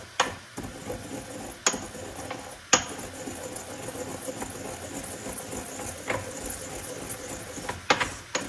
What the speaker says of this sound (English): I have my cumin seed in the mortar and pestle. I'm gonna go and give this a quick grind.